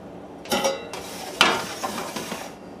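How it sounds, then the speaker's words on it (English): Clanks and scrapes of a metal pan holding potatoes being handled and slid into a 425-degree oven, a few sharp knocks over a quiet kitchen background. "And now we'll stick this in a 425-degree oven"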